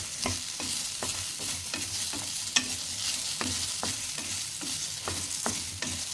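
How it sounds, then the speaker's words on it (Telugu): Grated coconut and onions frying together in a pan for aloo kofta gravy, a dense continuous sizzle broken by regular scraping stirs of a spatula, close and steady with no voices. "కొబ్బరి మంచిగా కాలింది కదా, ఆనియన్స్ కూడా కలిపోతుంది, మంచిగా ఫ్రై అవుతుంది."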